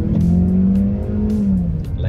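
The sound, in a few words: naturally aspirated car engine revving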